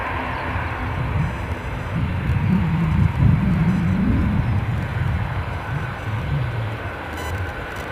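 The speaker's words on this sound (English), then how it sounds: "ATR zooming on out" An ATR turboprop airliner taking off at Edinburgh airport, a broad low engine roar swelling to a peak midway and then easing as it moves off, heard at a distance with no talk.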